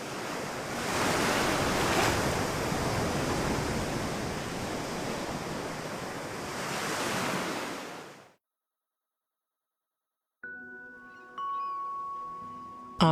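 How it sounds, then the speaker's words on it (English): Ocean waves wash over a sandy beach, a steady broadband surf roar for about eight seconds that cuts to silence, followed by a faint, different tonal background. "The last waves wash sand over the exposed eggs"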